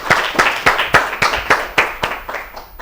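A studio audience at an Ethiopian children's television quiz show claps in a burst of roughly ten sharp, evenly spaced hand claps that gradually soften, with no talk over them.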